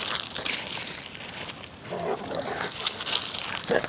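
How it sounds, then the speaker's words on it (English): Wet, excited dogs fresh from a river swim near a waterfall, with faint whimpers, yips and rustling scuffles scattered over a quiet outdoor background. "The dogs get spirited after they've been in the water."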